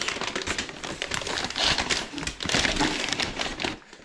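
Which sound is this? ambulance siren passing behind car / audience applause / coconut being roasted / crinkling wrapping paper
crinkling wrapping paper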